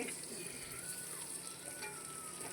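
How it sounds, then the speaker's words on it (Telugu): Spices, curry leaves and mint fry in a pan, giving a steady, soft hiss and sizzle throughout, with faint stirring and no talk. "అన్నీ కొంచెం ఒక టూ మినిట్స్ వేయించేసుకుందామండి కరివేపాకు వేస్తున్నాను"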